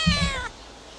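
A cat in the video game A Space For The Unbound lets out a short, loud meowing scream, two quick pulses of a strained cry ending abruptly over a quiet background.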